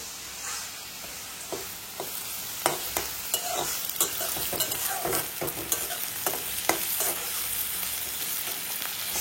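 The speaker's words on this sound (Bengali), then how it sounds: "ঝিঙেটা রান্না করে হয়ে যাচ্ছে, ভেজে নিচ্ছি সুন্দর করে।" Ridge gourd frying in a pan with ginger and garlic in a Bengali home kitchen, a steady close sizzle broken by a series of sharp scraping stirs from the spatula.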